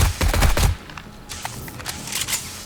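A coil rifle fires in the zombie survival video game 7 Days to Die, in a rapid burst of sharp, loud shots that thins into scattered fainter shots and impacts.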